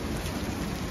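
Hail falls in Melbourne as a dense, steady, hissing patter, continuous and close throughout, with no voices.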